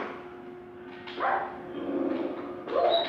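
A wolf in the Minecraft video game gives a few short barks and yips, separated by brief pauses, clear and near with no talk over them.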